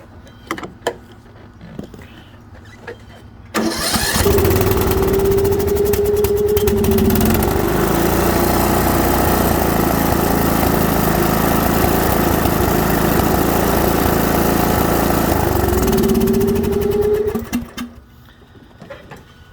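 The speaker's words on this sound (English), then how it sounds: "Absolutely no surging now, or very minor, if anything." A Troy-Bilt Pony lawn tractor engine, repaired after surging and stuttering, starts up and runs at a loud, steady, even drone for about fourteen seconds before winding down, with quiet background sounds before and after.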